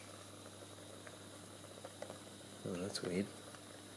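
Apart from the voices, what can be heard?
bubbles cooking, steaming inside graphite laminate cell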